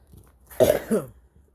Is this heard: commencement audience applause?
no